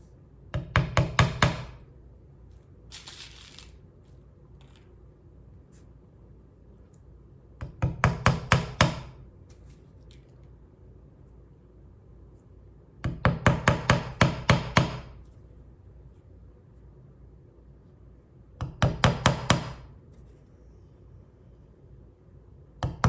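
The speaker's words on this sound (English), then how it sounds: "Okay, nailing all the way around, right on that line of that turtle shell." Nails hammered into a wooden board for turtle string art ring out in four separate bursts of rapid, sharp taps, each a quick series of close blows, with pauses of quiet between bursts.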